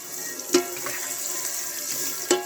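Tap water runs steadily into a kitchen sink as something is rinsed, with a couple of brief clunks against the basin; close and moderately loud, with no talking.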